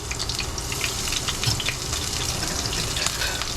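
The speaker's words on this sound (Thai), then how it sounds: "ใส่กระเทียมลงไปพี่น้อง ผัดผักใส่หมูรวมิตรนะจ๊ะ" Garlic frying in oil for a stir-fry of vegetables with pork sizzles steadily in a pan, a close, constant hissing crackle that continues unbroken without any talking.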